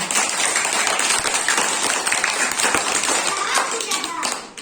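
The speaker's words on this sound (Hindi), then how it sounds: "तो जोरदार ताली बजाइए।" Children clapping loudly after a storytelling session in a reading campaign, steady close-up applause filling the whole stretch with a few voices mixed in.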